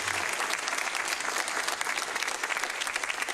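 A large audience applauds steadily before a televised 2020 presidential debate, dense sustained clapping filling the whole stretch without any speech.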